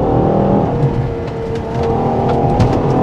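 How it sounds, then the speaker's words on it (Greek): A Ferrari Purosangue V12 engine revs continuously and loudly at close range, a dense sustained roar with slight rises and dips in pitch across a few seconds. "Προφανώς το μοτέρ αυτό λατρεύει το στροφάρισμα."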